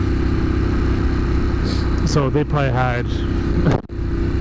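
A Ducati Monster 821 motorcycle engine runs with a steady low rumble under a rider's talk, most likely while riding, with a brief rise and dip near the end.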